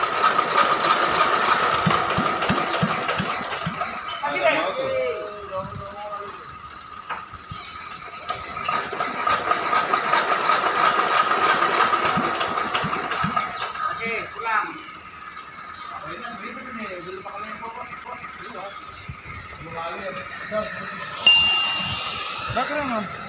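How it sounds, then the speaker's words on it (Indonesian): A welding machine's generator engine runs with a steady, loud mechanical rumble and hiss through the whole stretch, while people talk over it near the set. "Tutorial menghidupkan genset mesin las."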